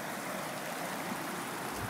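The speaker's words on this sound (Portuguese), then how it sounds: "Esse rio passa dentro da propriedade." A clear river flowing through a rural property produces a steady, close rushing and babbling of water, continuous and even throughout, with no voices.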